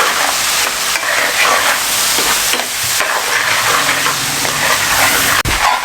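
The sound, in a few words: spices frying in a pan for fish biryani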